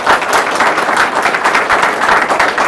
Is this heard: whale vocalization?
no